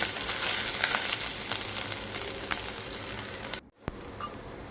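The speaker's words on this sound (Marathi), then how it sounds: "आता आपल्याला जिरे, आले लसणाची पेस्ट चांगल्या प्रकारे थोडी लालसर होईपर्यंत परतून घ्यायचे आहे." Cumin and ginger-garlic paste frying in hot oil while preparing stuffed capsicum, a steady close sizzle with faint crackles, cut by a brief silent gap near the end before the sizzling resumes.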